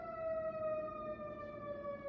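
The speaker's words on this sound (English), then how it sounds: "again, the sirens." A steady wailing siren tone, slowly sliding downward in pitch, sounding somewhat distant and alone.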